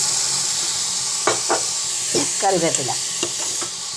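Mustard seeds and fenugreek fry in hot oil for a cowpea puli curry, a steady close sizzle broken by stirring scrapes and a few crackles, with a brief spoken word over it.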